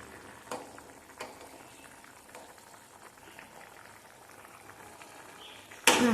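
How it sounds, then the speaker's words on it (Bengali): Potatoes boiling in a pot of water for a white potato curry, giving a low, steady bubbling with a few soft pops, then a sudden loud burst of noise near the end. "দেখো তোমরা নিজেই দেখো যে ফুটছে এখানে মানে সেদ্ধ হচ্ছে আলু"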